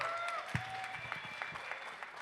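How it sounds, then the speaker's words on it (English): An indoor wedding walima audience claps steadily in a soft, distant patter, with a faint tone and murmur underneath. "Big round of applause for the brother, Mr. Wasim, everyone."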